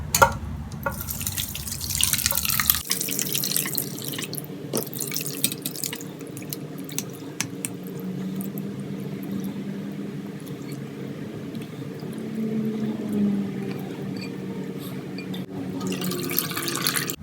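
Tap water runs steadily into a strainer full of ground beef (qeema) being rinsed in a bowl, a continuous close splashing rush that briefly starts louder, then settles into an even flow with soft dripping and no talk.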